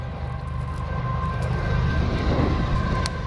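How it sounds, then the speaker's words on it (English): A train rumbles along in the distance near an old rural cemetery in Greenville, Illinois, a low steady roar mixed with heavy wind buffeting, with faint tonal hums above. "Oh, there's a train over there."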